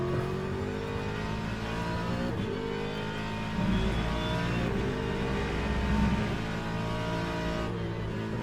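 Race car engine in the Le Mans Ultimate sim at Portimao, droning steadily with rising and falling revs as the throttle is pressed hard out of corners, loud and continuous with no talk.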